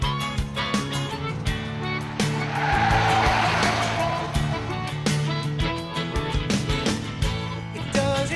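A Chevrolet Captiva LTZ Turbo Diesel with automatic transmission on a test drive, tires squealing and skidding as the car is pushed hard through turns, engine noise with scattered sharp knocks and a rising swell mid-run.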